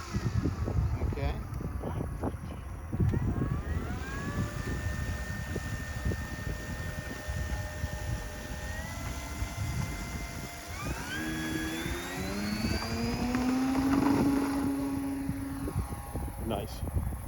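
A float plane's engine drones steadily while it taxis and slips across the water, with the pitch rising and falling and a harsher rise near the end, loud and continuous under wind noise.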